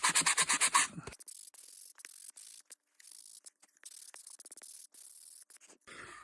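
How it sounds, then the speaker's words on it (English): Sanding block, rough side, rubbed along the edge of a painted, gessoed art-journal page with a beach seascape, giving short dry scratchy strokes in quick bursts after a louder opening scrape, close and quiet. "So I'm just going to take my sanding block"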